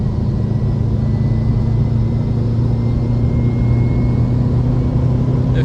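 A 300,000-mile Subaru WRX Bugeye with stock turbo and stock downpipe, pulling under partial throttle down a long straightaway: a loud, steady, close engine drone with a strong low hum that continues without a break.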